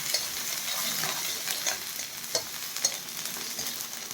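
Onion fries in oil for egg fried rice, giving a steady close hiss with light stirring clicks and a couple of sharper taps against the pan.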